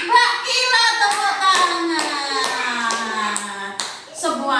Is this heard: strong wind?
no